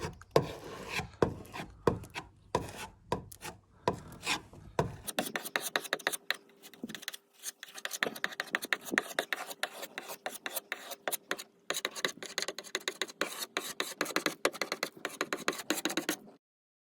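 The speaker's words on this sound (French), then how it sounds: "je vais prendre de la résine, hein, de la choucroute, et puis je vais colmater ces petits trous avant la peinture" Resin filler is spread into small holes on a Boum 415 boat hull before painting, heard as repeated close rasping and scraping strokes in uneven bursts, with no talking.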